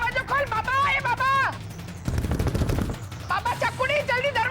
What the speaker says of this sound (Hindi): इतना बड़ा धमाका सुना मैंने